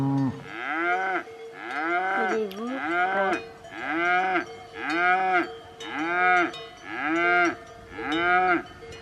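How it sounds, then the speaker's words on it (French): A lone calf moos repeatedly in a village full of cows on the Velika Planina alpine pasture in Slovenia, with eight loud, drawn-out bawls at a steady pace, close by, and a faint cowbell clink once. "regarde le petit veau"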